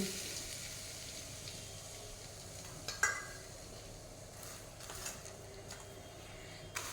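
Whole garam masala spices frying in oil left over from frying birista and potatoes for kacchi biryani, a faint steady sizzle with a few sharp clinks and stirring taps; no speech.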